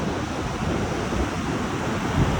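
Breezy wind rushes across the microphone on a sunny beach, and surf churns steadily beneath it. The roar is loud and continuous, with no voices.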